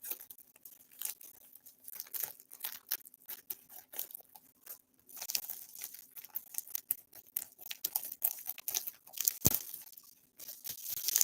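A postal package is cut open by hand, with bursts of tearing, crinkling and crunching of cardboard and plastic wrap, close and fairly quiet, in irregular bursts with pauses and no talk.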